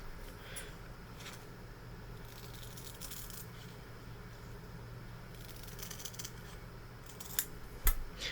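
Scissors cutting material during hardware work on a Cyberpunk Arasaka thermal katana prop build, a few faint snips and rustles over a steady low background hum, ending with a couple of sharper clicks near the end.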